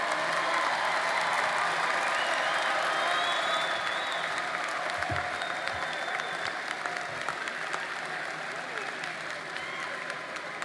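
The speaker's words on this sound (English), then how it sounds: "Let's applaud our College of Humanities, Arts, Social Science, and Education graduates." A large commencement crowd applauds graduates in a long, even wash of clapping from many hands, with faint cheers mixed in, sounding broad and slightly distant.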